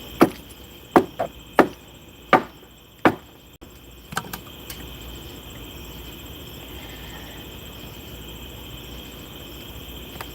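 Hammer blows on a wooden deck board during night-time deck building, about seven sharp, loud strikes in an uneven rhythm over the first few seconds, then outdoor insect chirping carries on alone.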